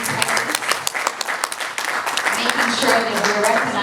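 Audience applause fills a hall at an evening International Girls in ICT Day event in Malawi, a dense, steady clapping from a sizeable crowd that holds strong throughout with a few sharper individual claps near the front.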